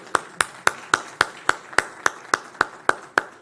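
Slow, evenly spaced single claps, about one every quarter second, ring out sharp and close, as a lone pair of hands or a few people clap together in a steady rhythm for a health minister at a doctors' tribute event.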